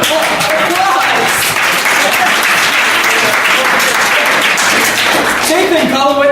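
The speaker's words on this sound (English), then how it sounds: "Give him an applause." An audience at a comedic mock-trial show gives dense, loud applause that runs steadily throughout, with voices mixed in.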